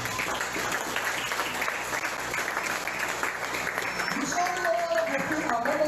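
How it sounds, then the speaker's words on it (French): A church congregation applauds steadily after a scripture reading, the clapping sustained and fairly loud with voices mixed in beneath it. "Est-ce qu'on peut acclamer la parole de Dieu?"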